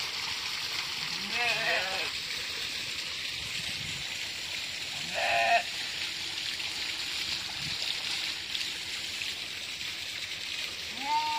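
Goats on a village farm bleat a few times, near and moderately loud, over the steady rush of flowing water.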